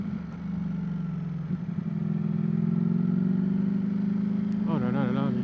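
Engine of a red 2024 Ducati Streetfighter V4S motorcycle idling while stationary, a steady deep rumble that swells louder midway and holds close and strong, with a brief higher revving flutter near the end.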